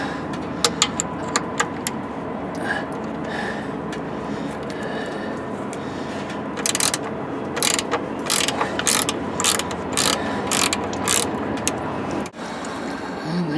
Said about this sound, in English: the wrench to use is a 5/8 wrench